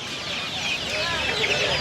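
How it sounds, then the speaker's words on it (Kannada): Kadaknath chicks chirp densely at a busy poultry market in Mandya. The peeping is continuous and high-pitched, with clucking fowl and crowd murmur nearby. "ನೋಡಿ ಕಳ ಕಡಕ್ನಾಥ್ ಕೋಳಿ ಮರಿಗಳು ಇವು"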